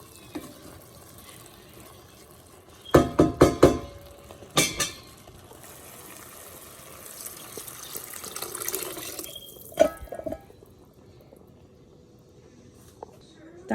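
Water poured into rice in an open pot while cooking chana pulav, splashing and gurgling in bursts, then fainter trickling with clinks, close up and near a kitchen.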